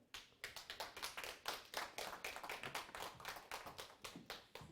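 A small group at a Korean community research training session in Gokseong claps in a quick, uneven rhythm, individual hand claps distinct and fairly close but faint overall.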